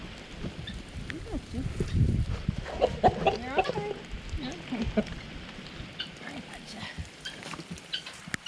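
Chickens clucking in a flock, including a limping rooster with frostbitten comb, scattered soft clucks and calls at close range under a person talking.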